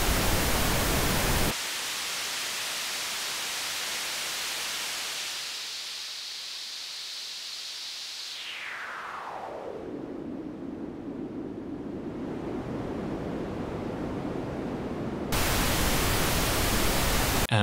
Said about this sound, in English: Here's how a bandpass filter sounds.